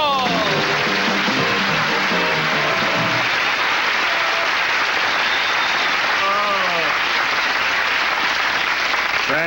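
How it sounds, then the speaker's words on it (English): Studio audience applause on a 1977 late-night talk show, loud and continuous, with band music playing over the clapping. "Thank you for all the applause"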